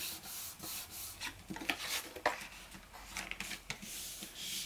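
Paper sections of a Christmas album are folded and creased by hand, giving soft, close rustles and scrapes in uneven bursts with no talk.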